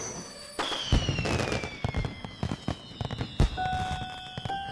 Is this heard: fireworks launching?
yes